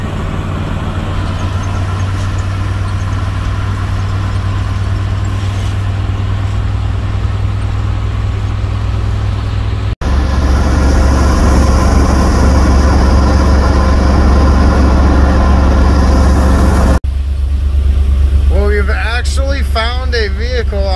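An RV's engine runs steadily while driving on the road, a loud continuous low drone with road rumble; the tone shifts at two abrupt cuts, and a voice speaks briefly near the end.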